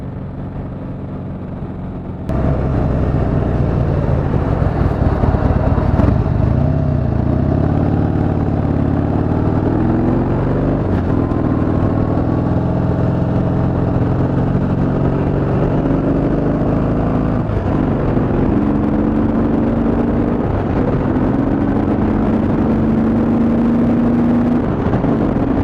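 A 2017 Harley-Davidson Softail Breakout (FXSB) accelerates on the freeway, its V-twin engine note rising through a strong, sustained pull with loud wind rush following a short quieter start.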